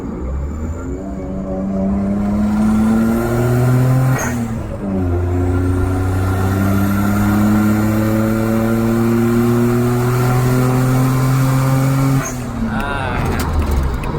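A car engine with a turbo blow-off valve revs up and holds steady, dropping briefly with a short hiss of released air from the valve before revving again, loud and close.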